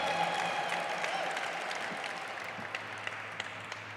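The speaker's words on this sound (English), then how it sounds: "Big round of applause, another big O for Aurora Mamea," An audience at an American Indian Heritage Month celebration claps in a steady, dense wash of applause that slowly fades toward the end, leaving a few scattered claps.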